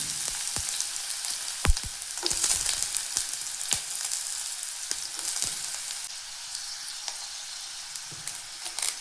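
Onions frying in hot oil with cumin and mustard seeds, a steady broadband sizzle throughout with scattered sharp pops and crackles and occasional stirring scrapes, close and moderately loud, no talking.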